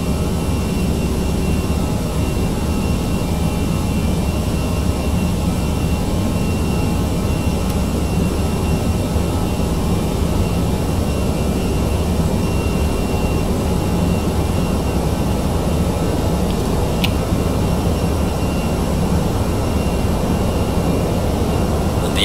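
A Vietjet Airbus A320's jet engines roar through a takeoff at Hong Kong, a loud, steady, broadband rush that holds at full power for the whole stretch, heard from inside the aircraft with no talk.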